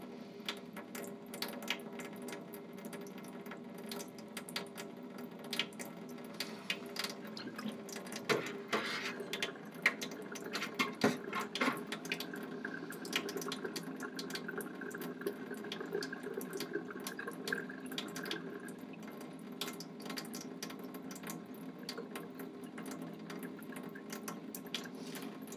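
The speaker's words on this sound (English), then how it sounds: "notice I've got the lukewarm tap water running" Lukewarm tap water runs steadily from a faucet into a lab sink, a continuous quiet hiss and splash with faint trickling shifts, no talk.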